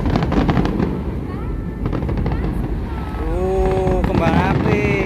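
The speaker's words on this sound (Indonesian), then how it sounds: "Kembang api." Fireworks burst over Monas in Jakarta, a dense stream of crackling pops and booms heard outdoors amid crowd noise and wind, with voices and whistles rising over the display.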